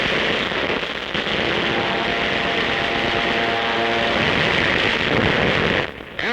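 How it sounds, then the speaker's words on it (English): WW2 newsreel combat sound of enemy warplanes diving low with engines roaring and bombs bursting around a ship's deck, a loud continuous roar with blasts before a sudden drop near the end. "Enemy planes zooming in low, men throw themselves flat on the deck as bombs burst all around"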